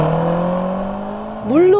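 Land Rover Defender Octa launching hard in off-road launch mode on slippery snow, a steady engine drone that surges into a sharp rising rev near the end, loud and close.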